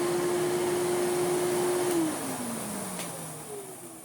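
Motor of an old Victor V9 vacuum cleaner whirring steadily and close, with a tonal whine that dips in pitch partway through as the motor note shifts, without any talking.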